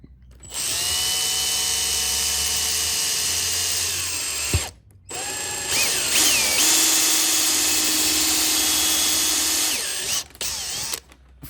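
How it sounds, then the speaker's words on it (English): A power drill whirs steadily into a plastic car bumper for several seconds, stops briefly, then runs again with a shifting pitch before cutting out near the end. "Drill bit goes on the centre mark. Pull the trigger, make sure you're in the centre."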